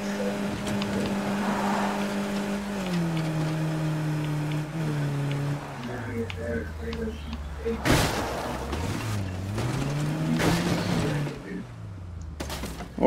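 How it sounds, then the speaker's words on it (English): Engine of a car driven through the zombie-survival game State of Decay 2, a steady droning hum that rises and falls in pitch as the vehicle speeds up and slows, with occasional thumps and rattles. "I don't know where I'm going, I'm just driving."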